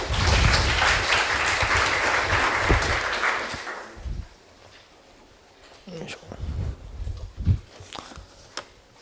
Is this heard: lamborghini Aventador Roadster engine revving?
no